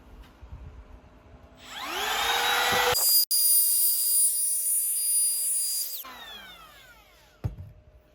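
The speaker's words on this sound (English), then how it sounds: "Now grab my other router with the 1/8 inch white side round over bit. We're just going to ease this edge a little bit." A router with a 1/8 inch roundover bit spins up with a rising whine, then screams at a steady high pitch while easing a wood edge, before winding down, followed by a brief knock.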